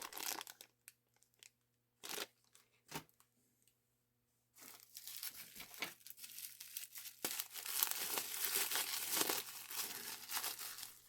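Plastic packaging for resin parts of a 1960 Oldsmobile wagon model being torn open, first a few short sharp crinkles with pauses, then a sustained close crackling and crumpling as the bag is pulled apart.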